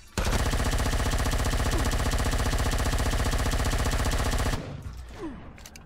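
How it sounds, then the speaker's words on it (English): A cannon drone in a video game fires a rapid, loud stream of rattling shots for about four seconds without a break, then cuts off abruptly into quieter game ambience. "here comes the cannon drone."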